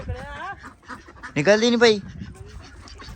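Ducks on a farm give a short burst of loud, honking quacks mid-clip, with people talking around them.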